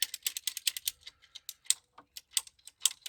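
Plastic garden hoop for a raised-bed low tunnel being cut to length, a rapid series of sharp, close clicks and snips in an irregular rhythm, crisp and alone with no talk.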